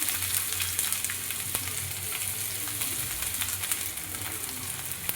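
Onion, garlic and green chili fry in a little oil on a chapati tawa, a constant crackling sizzle close up with light stirring clicks throughout, no voices.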